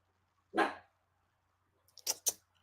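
A dog barks once, then gives two more quick barks a moment later. The barks are close and loud against quiet background hum, with no talking.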